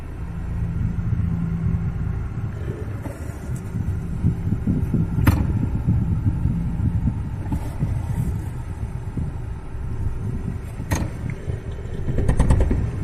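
Cab heater fan running in a 1995 Holden (Isuzu) Rodeo, a steady low throbbing hum with a few sharp ticks or knocks near the ducting, close and continuous with no talk.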